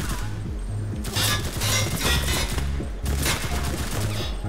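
Bursts of automatic gunfire from the Enlisted video game come in two loud volleys over a low rhythmic in-game background, with a voice heard in between.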